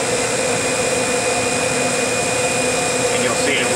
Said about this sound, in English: it's going to use the vacuum pump to take the nitrogen out of the box.